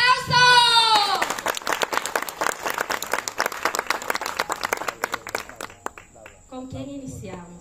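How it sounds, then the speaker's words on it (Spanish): Wedding guests burst into applause, a quick run of claps that builds, then thins out into scattered hand claps. A voice speaks at the start, and more talk follows at the end. "¡Que se siente el aplauso!"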